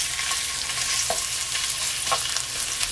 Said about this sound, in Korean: 얘를 양념에 바르지 말고요, 먼저 한번 구워주겠습니다.